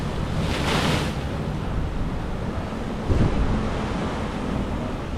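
Large ocean waves crash beside the Mariner of the Seas cruise ship, a steady roar of surf with strong wind noise and two louder surges, near and loud throughout.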